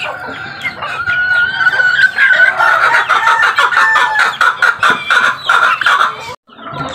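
Chicken calls, a loud close run of high squawking clucks with a crowing-like quality, continuing for several seconds before stopping abruptly.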